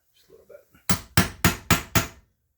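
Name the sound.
staking a nut flange into a recess on a manual transmission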